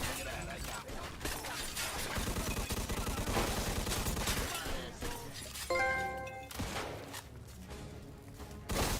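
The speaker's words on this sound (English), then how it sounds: "His bodyguard tries to save him, but he gets shot, and then a shootout ensues." Heavy gunfire crackles through a shootout in the video game Mafia II, with dense bursts of shots, shattering impacts and mechanical clatter, loud and continuous, partly under talk.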